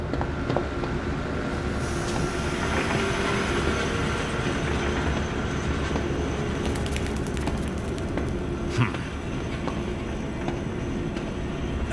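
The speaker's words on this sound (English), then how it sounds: "A train? Trolleys?" A zoo train in the video game Zoochosis rumbles along steadily, with a continuous low rolling roar and rattling wheel clatter, plus a few metallic clanks and squeals midway.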